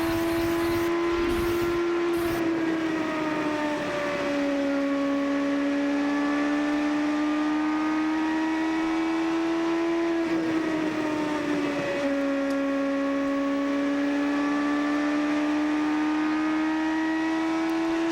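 An IndyCar race car engine heard onboard during a 2007 race at Richmond, loud and sustained, its pitch rising through gears and dipping briefly when shifting, no talking.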